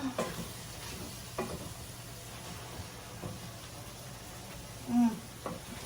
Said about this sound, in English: we're gonna stir that all up